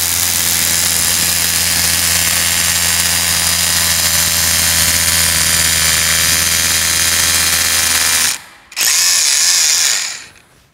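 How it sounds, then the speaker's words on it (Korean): A Hilti TE 6-A22 cordless rotary hammer boring 17 mm holes, with loud, close, continuous hammering and motor drone for about eight seconds, a brief stop, then another short burst. "17mm도 아무 부담 없이 쭉 잘 뚫리고 있습니다."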